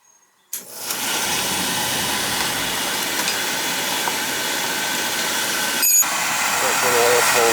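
An oil-fired boiler burner ignites abruptly and roars steadily, a loud close broadband rumble that holds to the end with one brief surge near the close, with no talk over it.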